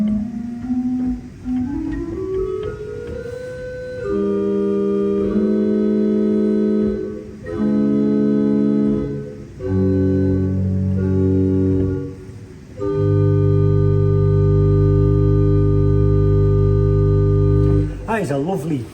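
Deep sustained tones from a 16-foot quintaton stop on a 1906 pipe organ, moving through a slow sequence of chords and low held notes, with a breathy chiffing onset and rich hollow harmonics, fairly loud.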